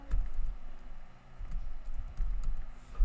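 Keys tapped on a computer keyboard during a graphic design session, a steady run of soft close clicks over a low background hum, with no voices.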